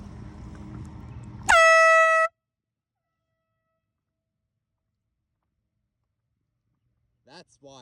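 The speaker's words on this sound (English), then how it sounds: "if you sound an air horn, the sound will bounce off the walls" An air horn blasts loudly once for under a second at a lake cove, a single harmonic honk that cuts off sharply into silence, with no audible echo trailing it; brief faint voices follow at the end.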